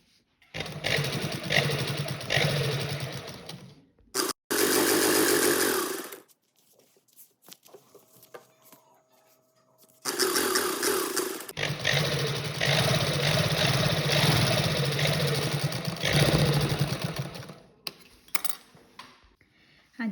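Sewing machine stitching a salwar belt, running in long continuous bursts of mechanical whirring and clatter separated by brief pauses, loud and close with no talk.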